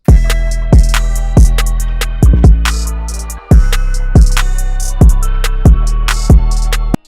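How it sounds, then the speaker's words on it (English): Punchy, hard-hitting drum beat made in FL Studio 20 with soft clipping, booming kicks and sharp snare cracks in a steady groove over a deep bass line, loud and upfront. "you should have drums that sound like this"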